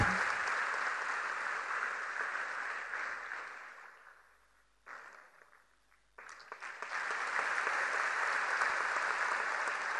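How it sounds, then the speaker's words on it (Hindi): Loud crowd applause at a music award ceremony that fades to near silence midway, then swells back into sustained clapping. "तालियों का आशीर्वाद"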